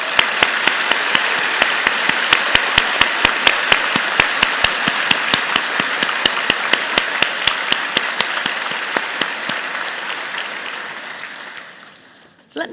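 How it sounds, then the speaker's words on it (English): A vigorous round of applause at a college convocation ceremony, a large crowd clapping loudly and steadily, tapering off near the end. "round of applause."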